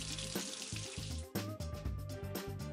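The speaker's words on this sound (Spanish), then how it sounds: "Una vez los tenemos, los vamos a pasar por agua bien fría." Pieces of bonito tuna rinsed under very cold running tap water in a kitchen sink, a continuous close splashing stream with small bumps and clatters as the fish is handled.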